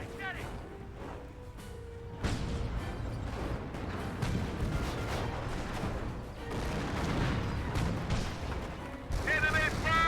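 Canister rounds from tanks in the World War II strategy game Company of Heroes, a chaotic run of booming blasts and crackling gunfire with scattered bursts, a game voice and radio chatter heard throughout.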